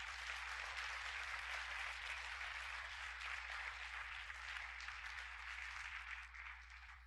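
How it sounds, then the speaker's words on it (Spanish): A church congregation applauds in a dense, continuous wash of clapping that holds steady and slightly fades toward the end, heard from a distance rather than up close. "Denle un aplauso al Señor por sus vidas."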